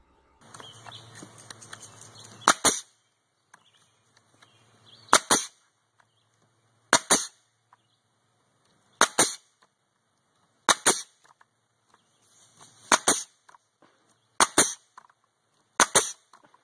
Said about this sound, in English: Using the nail gun, we made an outline for a face that looked like this.